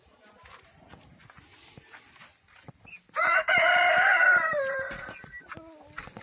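Chickens and chicks in a large hen coop: soft clucks and scratching steps, then a loud rooster crow bursts in at close range and runs for about two seconds before fading into quieter clucking.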